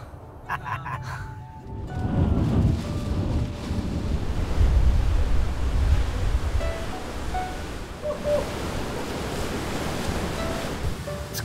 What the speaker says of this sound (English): Crazy how there's a rock out there that just gets completely covered in water. The waves are that huge.